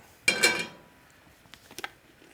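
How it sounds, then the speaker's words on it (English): A metal skillet set back down on a stovetop, a sharp clattering clank followed by a few lighter knocks and taps, close and alone. "Okay, now bring your skillet back."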